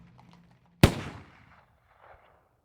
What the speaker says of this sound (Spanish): El estruendo de un disparo sobresalta al caballo